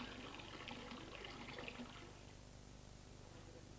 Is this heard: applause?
no